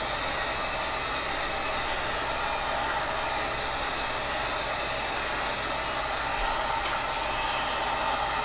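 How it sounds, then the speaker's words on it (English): A heat gun blows steadily while heating PVC for a hand-ax build, a constant loud, close whooshing roar lasting the whole eight seconds with no talking. "The more you heat, the farther away you want to pull the heat gun."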